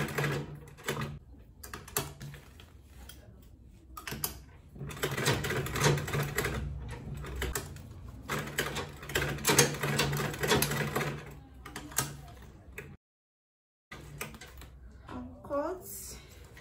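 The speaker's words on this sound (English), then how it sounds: "Put my needle down, back stitch, sew my foot up." A sewing machine back stitches on a quilted tote bag in short runs of rapid mechanical whirring, broken by brief pauses and one full stop, with a voice talking over parts of the stitching.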